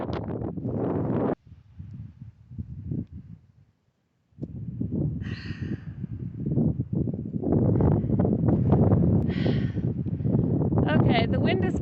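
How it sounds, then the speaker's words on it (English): Strong wind gusting through the desert wind caves of the Coyote Mountains Wilderness in Anza-Borrego, roaring close against the microphone in steady buffeting waves, briefly dropping away before returning louder. "Okay, the wind is getting worse."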